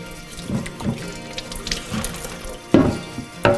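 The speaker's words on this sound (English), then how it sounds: "get a little water going." Water runs from a tap into a sink, splashing unevenly, with a couple of louder clunks near the end.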